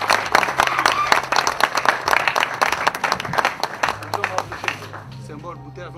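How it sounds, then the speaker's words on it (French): An audience applauds at a fan club launch event in Pointe-Noire, with crisp, rhythmic group clapping that thins out near the end while people talk underneath. "On peut applaudir"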